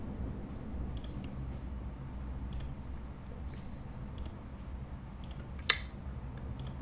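A computer mouse clicks sparsely and softly, roughly one click a second, while a free select tool marks corners around a book cover image, with one sharper, louder click near the end over a low background hum.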